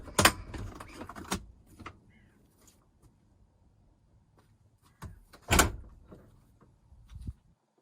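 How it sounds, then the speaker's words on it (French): Rear doors of a converted van swinging open, with a sharp latch clunk and creak near the start, quiet pause, then another loud clunk and rattle of the doors folding back against the side, all close by with no talk. "Ensuite ça c'est les portes arrière, elles s'ouvrent en entier"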